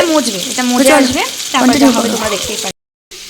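Food seasoned with salt and turmeric sizzles and fries in a pan while it is stirred, with someone talking over the steady loud frying noise.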